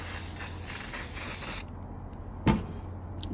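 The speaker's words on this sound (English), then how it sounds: "Heavy duty adhesive spray, and I shook it well." Close, loud hiss of a heavy-duty adhesive spray can that cuts off abruptly, followed by a short sharp knock and a brief faint spritz.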